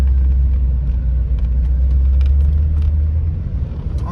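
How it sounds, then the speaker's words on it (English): A 1984 Cadillac Eldorado Biarritz convertible rolls around a parking lot, its engine giving a steady, loud low rumble that holds evenly throughout, with no voices over it. "I'm driving around a parking lot."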